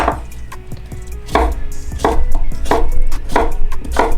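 A knife cuts steak lengthwise on a cutting board with a run of loud, close, evenly spaced chops and thuds, about six strokes with no talk.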